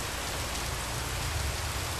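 Heavy rain with strong gusty winds across a district in Krishna, a dense, constant roar of downpour that is loud and unbroken, with no voices over it.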